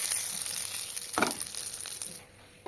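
Eggplant pieces fry in a pan with a soft continuous sizzle and a brief louder crackle midway, then fade quieter near the end.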